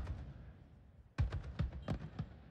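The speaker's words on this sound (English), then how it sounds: "The fireworks won't end anytime soon." Fireworks bursting on New Year's Eve: after a quieter stretch of distant rumble, a rapid series of sharp, booming explosions goes off in close succession, loud and punchy, with no talking.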